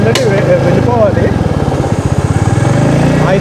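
A motorcycle with a reported fault idles nearby at Kondapalli fort, a steady low engine chug that turns into a clearly pulsing rhythm toward the end, with voices talking over it.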